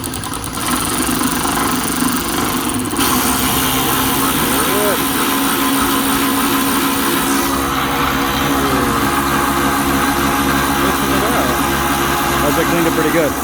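M12 ratchet spinning on a fan hub, a steady buzzing motor whir running continuously at close range, with a person talking over it.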